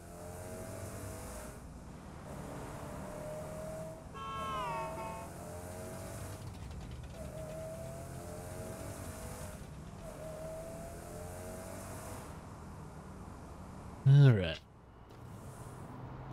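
Synthetic car engine in the video game Saints Row: The Third Remastered droning at steady pitch with repeated rising revs, ending in a brief loud screech; a person talks over it.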